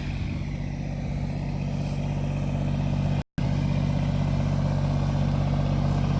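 A tractor engine idles steadily nearby, holding tension on fence wire in a yard, with a continuous low rumble and a very brief dropout partway through.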